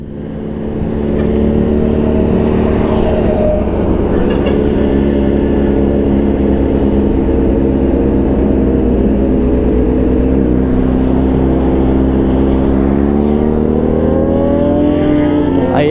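Ducati sport motorcycle engine revving loud and close over a continuous roar, rising and falling in pitch through the whole stretch, with other sport bikes such as a ZH2, R1, Fireblade, Aprilia RSV4 and ZX6R nearby on a group ride.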